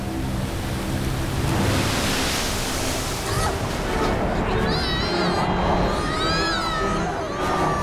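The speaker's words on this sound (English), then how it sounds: "It's a tidal bore! A wave of water from the ocean is moving up the river!" A cartoon tidal bore wave rushing up a river from the ocean, heard as a loud, steady roaring wash of water throughout, with squeaky cartoon chirps and whistles rising over it in the second half.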